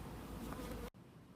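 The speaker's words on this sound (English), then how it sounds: "I'm putting them over there after I shake the bees into this box here." Honeybees swarm and buzz around an opened hive during a fall inspection, a dense steady drone close to the microphone that cuts off abruptly just before the end, leaving a quieter hum.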